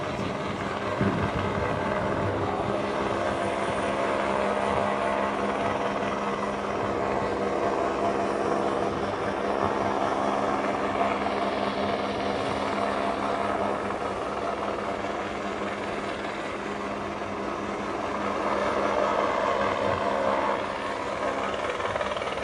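A police helicopter drones steadily overhead with a constant rotor thrum, holding level throughout at moderate distance.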